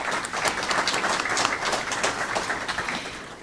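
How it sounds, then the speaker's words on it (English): Applause from the audience at a county candidate forum, a dense, lively round of clapping that fills the room, steady for a few seconds before easing slightly at the end. "a big round of applause, please, for North Central Michigan College for this evening"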